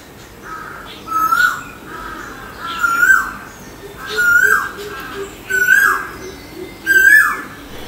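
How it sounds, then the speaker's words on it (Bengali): Crows caw around the old abandoned Murapara Rajbari palace, five loud, close call bursts coming roughly every one and a half seconds over a quiet background. "মাঝে মাঝে পাখির ডাক শোনা যায়"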